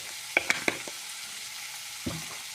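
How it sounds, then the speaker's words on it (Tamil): Spices fry for tomato rice in a quietly hissing pan, broken by a few sharp clinks of stirring near the start and another scrape a moment later. "இதெல்லாம் வறுத்துட்டு குக்கரில் வைக்கிறோம்."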